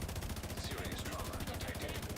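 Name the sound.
minigun firing in the video game The Division 2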